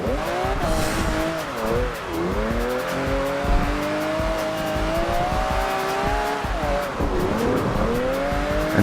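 A 2013 rear-wheel-drive Mercedes-Benz E63 AMG drifts in Forza Horizon 2, its engine note rising and falling with gear shifts while tires squeal continuously through the slides.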